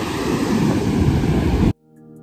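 Sea waves breaking near the reefs at Caraíva beach, a loud, broad rushing wash with wind buffeting, which cuts off abruptly into near silence at the end.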